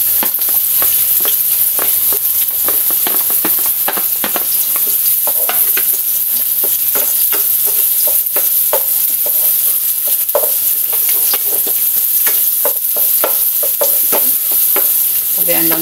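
Garlic, onion and ginger sautéing in a pan give a steady, loud, close sizzle that runs throughout, with frequent clinks and scrapes of a utensil stirring; no voices.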